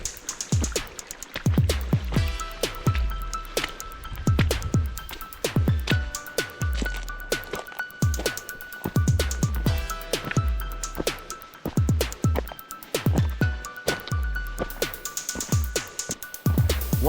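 Footsteps splash and squish through shallow creek water where the creek and trail share ground in Green Canyon on the Sugarloaf Mountain hike near Big Bear, California, a steady, close walking rhythm that continues throughout.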